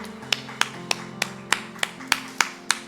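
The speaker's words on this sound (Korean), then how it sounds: "우리 하나님께만 영광의 박수 올려드리겠습니다." A congregation at a Wednesday church service claps in a steady, evenly spaced rhythm, about nine sharp claps in three seconds, over sustained keyboard-like tones.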